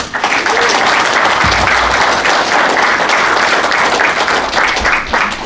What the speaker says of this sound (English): So everybody give her a round of applause